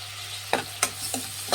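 Chopped tomato frying in a pan for vermicelli upma, with four distinct bursts of stirring and sizzle against a steady low hum, close and moderately loud.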